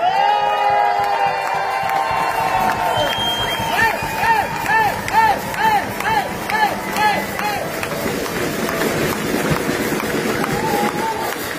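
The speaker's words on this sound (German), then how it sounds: "Das ist euer Applaus" A crowd at a brass-band club's anniversary record attempt cheers, whoops and claps, loud and lively, with a band's tonal notes and shouts woven through the noise.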